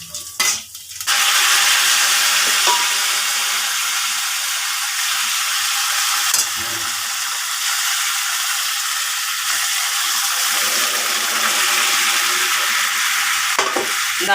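Dal tipped into potatoes frying in ghee and oil sets off a loud, steady sizzle that holds for the whole stretch after a brief clatter at the start, with no talking.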